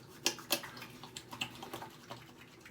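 A few soft splashes and pats as coconut water Thayer's toner is splashed onto a face by hand, quiet and close, in brief irregular bursts with nobody talking.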